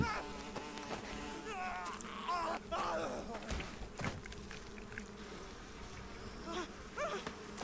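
Dense buzzing of a bee swarm during a boss fight in Metal Gear Solid 3: Snake Eater, a steady insect drone with wavering tones under game sounds and people talking.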